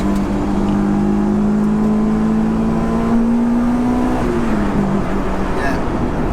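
A supercharged 416 bhp Honda S2000 pulls hard in second gear, its engine note climbing steadily in a loud whine before a brief dip, with voices inside the car.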